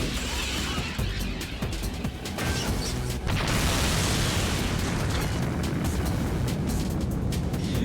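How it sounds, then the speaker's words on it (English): A loud burst of crashing, explosive noise from the video game Shin Megami Tensei: Digital Devil Saga fills the clip, with sharp smashing hits and a heavy roaring rumble continuing after. "Explosion action roll."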